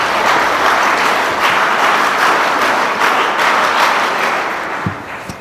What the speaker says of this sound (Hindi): कृपया पुनः एक बार उनका जोरदार तालियों से अभिवादन